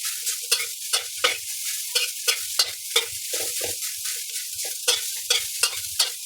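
Rice being stir-fried in a pan, with a repeated scrape-and-toss rhythm of spatula strokes over a steady sizzle, close and moderately loud, no voices.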